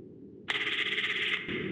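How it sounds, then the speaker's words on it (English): A telephone rings loudly in a video game, a bright, sustained electronic trill that starts abruptly after a brief quiet moment and continues steadily, close and alone. "That's a loud ass phone."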